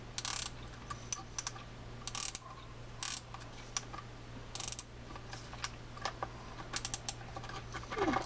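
A Daiwa SS 700 Tournament freshwater fishing reel has its serrated drag knob tightened, giving a run of small, dry ratcheting clicks in short bursts, close up over a steady low hum.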